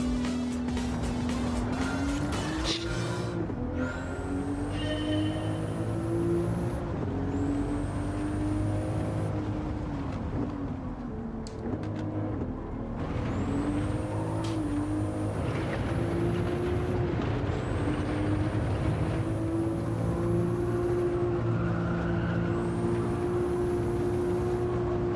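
A race car engine drones and revs through gear changes over five laps in Gran Turismo, a hard car to drive, with rising and falling pitch, upshifts and occasional tire squeal, loud and continuous.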